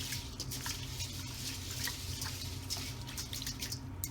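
Close splashing and swishing water as rice is washed, with small drips and trickles, steady and moderately quiet, no voices.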